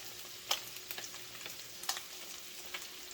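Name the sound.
crappie fish frying in a pan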